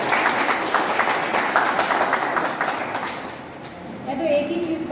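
Audience applause for hospital staff at an eNEXT ICU opening at Noon Hospital, a dense round of clapping that fades out toward the end as a voice begins speaking.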